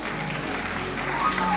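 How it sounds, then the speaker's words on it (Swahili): A church congregation at a Kikuyu service claps along in a short burst, with a few voices just audible under the clapping. "Asante, tumpigie makofi"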